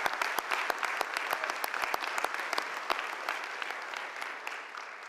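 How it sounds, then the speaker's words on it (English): A congregation in a church at a police academy graduation applauds, crisp individual claps popping over a thick, steady wash of clapping, moderately close and continuous. "Would you please join me in a round of applause and give them an appreciation?"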